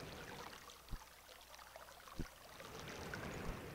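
Gentle flowing water in an adventure game set in Myst's island world, a steady faint trickling wash with two brief low thumps along the way, heard alone without talk.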